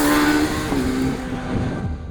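A 2026 Kawasaki Z900 motorcycle engine pulling cleanly under acceleration from low speed, a loud, close, steady drone with a rising tone and no juddering, with no voices.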